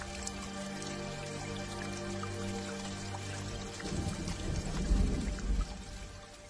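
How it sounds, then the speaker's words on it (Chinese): Light rain falls steadily as a soft patter, then grows into a heavier splashing wash of drops near the end, with no voices. "不久之后下起小雨来"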